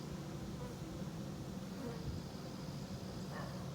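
Dense, steady buzzing of many honey bees up close at an open hive during an August inspection, a continuous humming swarm with no voices.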